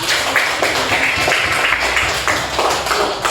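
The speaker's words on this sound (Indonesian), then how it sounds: "Tepuk tangan dulu dong" Students in a classroom clap their hands together, a loud, close burst of overlapping claps with a rough rhythmic pulse, mixed with a few voices.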